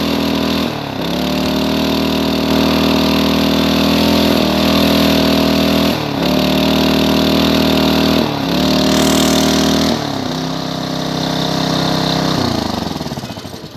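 A petrol-powered water pump engine runs close by, loud and droning with a steady rough hum, briefly dipping and surging again at short intervals as the revs change.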